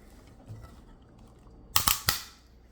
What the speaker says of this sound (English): So you can hear that like double crack sound. It's like cracking through the two layers.